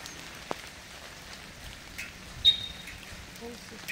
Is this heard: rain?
yes